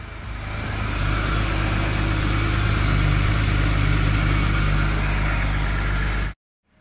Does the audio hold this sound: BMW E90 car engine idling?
yes